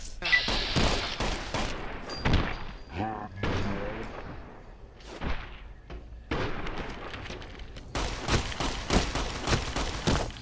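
Rapid 9mm pistol shots ring out in a Fallout New Vegas fight, repeated bursts of sharp cracks and booms with brief pauses, mixed with game sound effects and a voice talking.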